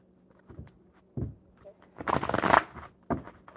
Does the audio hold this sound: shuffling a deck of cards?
yes